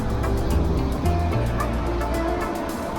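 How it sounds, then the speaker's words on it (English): A bus overtaking on a road in Cusco, its low engine drone and rumbling traffic noise steady and fairly close throughout, with tonal engine harmonics shifting as it passes. "And there's a bus overtaking."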